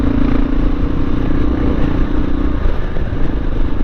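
Single-cylinder thumper motorcycle engine running steadily while riding, a low throbbing drone close and continuous with a sustained tone that eases off near the end, with wind rush over it.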